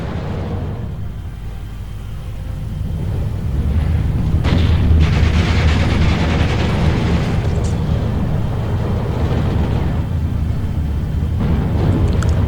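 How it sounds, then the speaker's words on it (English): Artillery and mortar fire in the Steel Division WWII strategy game, heard as a dense, continuous rumble of booms and blasts with a heavier swell from about four seconds on and scattered sharper bursts throughout. "I have been able to destroy lots of anti-air using the artillery and the mortars."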